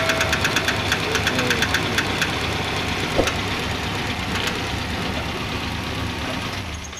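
Rhythmic knocking from the engine area of an idling Suzuki Carry 1.0, a rapid series of evenly spaced taps over a steady low engine hum, loudest in the first few seconds and fading slightly later.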